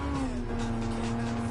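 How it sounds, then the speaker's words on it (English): Video-game Ferrari engine holding a steady high drone with faint tire squeal, loud and close, no talking over it. "It's a Ferrari. Oh my god, that's got a power band."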